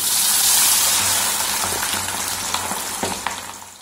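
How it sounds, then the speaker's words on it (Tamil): Chicken 65 pieces sizzle and crackle in hot oil, a dense, loud, steady hiss with scattered pops, heard close up and alone. "இப்போ நம்ம வந்து எண்ணெயில் எடுத்து போட்டு பொரிச்சிடலாம்."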